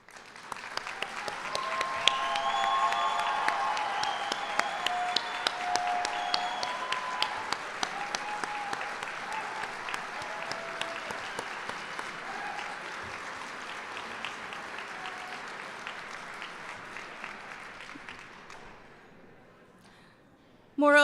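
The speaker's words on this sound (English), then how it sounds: "Please stand and accept a collective applause." An awards ceremony crowd gives collective applause for standing nominees: a long, steady wash of clapping with individual sharp claps standing out and faint musical tones underneath, dying away near the end before a sudden loud burst.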